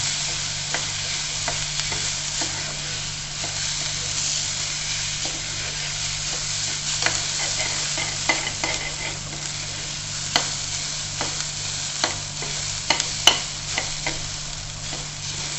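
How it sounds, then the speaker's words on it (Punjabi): Rice roasts in a pan while being stirred, with a continuous low hiss, a steady mains-like hum and frequent small scraping clicks that grow sharper toward the end. "ਲੋ ਜੀ ਵਿੱਚ ਆਪਾਂ ਚੌਲਾਂ ਨੂੰ ਵੀ ਇਸ ਤਰ੍ਹਾਂ ਹੀ ਭੁੰਨਣਾ ਹੈ"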